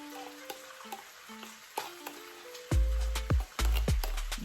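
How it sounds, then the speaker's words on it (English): Canned beans are poured from the can into a Ninja blender jar, producing wet glugging and plopping sounds with thuds near the end, close and moderately loud over faint background hum. "So I'm just gonna pour about 3/4 of the can in here."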